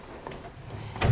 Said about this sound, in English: Pull-out drawers all over the place.